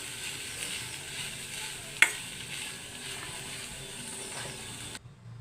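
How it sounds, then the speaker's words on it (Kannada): Cooked rice being stirred into a tomato mixture in a pan for tomato chitranna, giving a steady soft scraping and sizzling texture with one sharp clink near the middle, no talk. "ಈಗ ಮಾಡ್ಕೊಂಡಿರೋ ಅನ್ನವನ್ನು ಈಗ ಟೊಮೆಟೊ ಗೊಜ್ಜಿಗೆ ಸೇರಿಸ್ತಾ ಇದ್ದೇನೆ. ಸೇರಿಸಿ ಚೆನ್ನಾಗಿ ಈಗ ಮಿಕ್ಸ್ ಮಾಡ್ತಿದ್ದೇನೆ."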